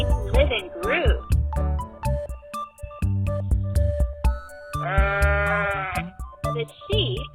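Sheep bleat in a farm-animal sound sequence, several wavering, voiced calls rising and falling across the clip, loud and close, with brief gaps between them and no talking.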